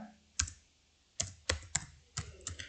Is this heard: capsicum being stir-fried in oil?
no